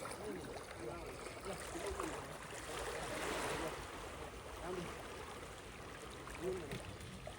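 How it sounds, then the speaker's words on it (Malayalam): A fishing boat is pushed into the sea at Manjeshwar beach, with a steady wash of surf and water noise throughout and faint voices under the waves. "ബോട്ടാണ് കടലിലേക്ക് തള്ളുന്നതാ. കടലിലേക്ക് എത്തി."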